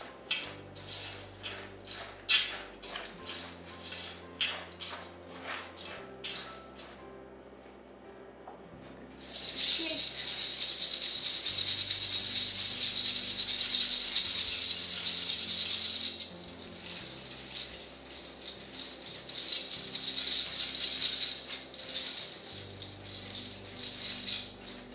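Peanuts coated in maple syrup are stirred in a pan, giving repeated close-up rattling and scraping. Quieter pauses alternate with longer bursts of brisk, dry clatter.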